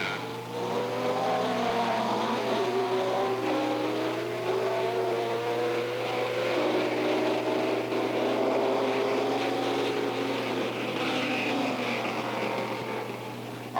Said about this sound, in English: Chris Irwin coming into the pitch now